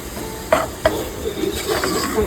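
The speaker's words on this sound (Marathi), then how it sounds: "आता आपण चिकन टाकलेलं आहे आणि आता आपल्याला थोडासा 2 मिनिटं मिक्स करायचं आहे" Chicken is stirred in a pot for biryani. A spoon scrapes and knocks against the pot in a few distinct strokes over a soft, steady sizzle, with no one speaking.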